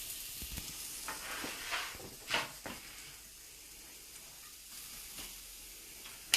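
Carrots sauté in avocado oil, giving a soft, faint sizzle with a few knocks and scrapes of a utensil early on, then a quieter, even hiss.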